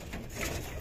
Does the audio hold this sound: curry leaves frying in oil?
no